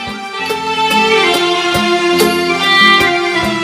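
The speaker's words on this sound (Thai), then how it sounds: "เสียงที่ดังอยู่ในขณะนี้คือเสียงจากศิลปินชาวใต้ในรูปแบบของหนังตะลุง" Southern Thai nang talung shadow puppet theatre music: bright percussion strikes and ringing tuned tones play a lively rhythmic pattern, with sharp hits punctuating a steady, resonant melodic line.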